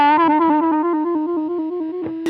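Electric guitar run through a DigiTech Whammy pedal sustains one bright, distorted note whose pitch steps gradually downward in small increments, ending with a quick fresh strum.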